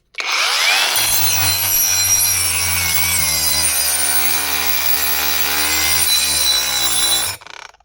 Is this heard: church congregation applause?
no